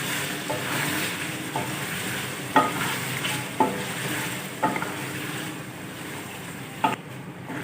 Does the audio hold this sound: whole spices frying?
yes